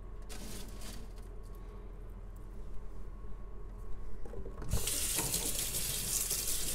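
A kitchen tap runs while hawthorn berries are washed, a soft steady trickle that swells into a louder, hissing full stream partway through.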